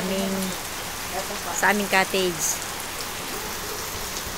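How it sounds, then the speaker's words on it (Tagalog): Heavy rain pours steadily outside a rented cottage on a cold, windy day, a dense even hiss filling the whole clip while a person talks briefly over it. "Kaso nga lang, ito problema, umuulan ng malakas."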